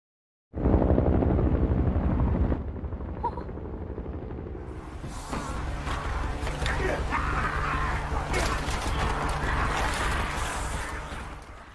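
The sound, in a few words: helicopter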